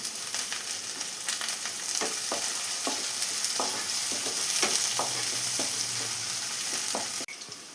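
Green chillies and curry leaves fry in a pan with onions, giving a loud, steady sizzle close by, broken by regular spoon scrapes and taps from stirring, which cuts off abruptly near the end.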